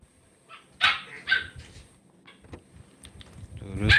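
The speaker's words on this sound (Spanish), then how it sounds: "mutea al perro" A dog barks in a room during a PUBG gaming stream, several sharp barks and yips at uneven intervals mixed with background noise and a nearby voice.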